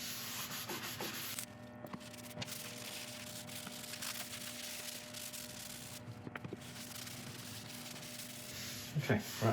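Wax coating is rubbed onto turned burl wood, giving a continuous close scratchy rubbing with a few brief knocks and soft handling noises.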